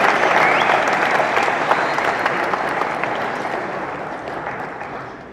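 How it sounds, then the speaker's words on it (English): Hall audience applause at a talk, with dense clapping from many hands that starts loud and fades gradually over about five seconds. "a hand clap"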